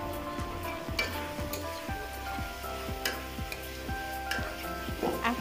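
Green chilies and capsicum sizzle in a frying pan while pasta is being made, a steady close crackle with regular soft ticks and light stirring clatter throughout, no talk.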